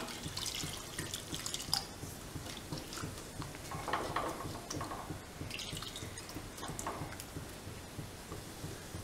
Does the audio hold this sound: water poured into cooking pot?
yes